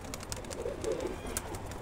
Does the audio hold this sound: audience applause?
no